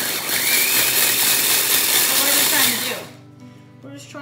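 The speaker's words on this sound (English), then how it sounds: "turn the wheat and grind it down into the flour" Wheat berries being ground into flour by a powered grinder at a harvest and threshing demonstration, a loud steady whirring roar that runs for about three seconds, then stops abruptly, leaving faint background sound.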